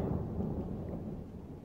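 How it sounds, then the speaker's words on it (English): Deep, continuous rumble of thunder from a thunderstorm near a campsite, rolling steadily at moderate volume through the whole moment with no voices. "thunderstorm"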